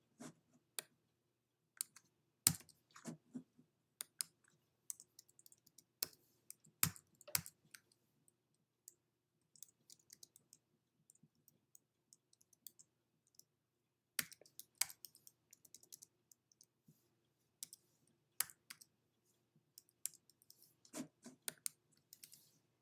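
Someone types a zip code into an online sales tax deduction calculator on a computer keyboard, with sparse clusters of quiet key clicks separated by pauses, close and alone in a silent room.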